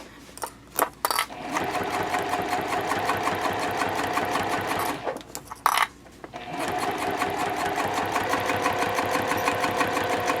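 A sewing machine runs in steady, rapid stitching bursts through Splash fabric on a fold-flat packing cube, pausing briefly twice for backstitches and then running on close and loud.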